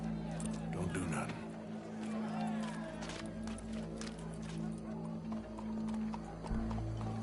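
Horse hooves clop along amid a busy Red Dead Redemption 2 game soundscape, with a whinny and voices mixed in over a steady low hum.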